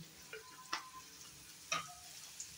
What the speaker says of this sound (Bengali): এখন আমি সবজিটা ভালো করে ফ্রাই করে নেব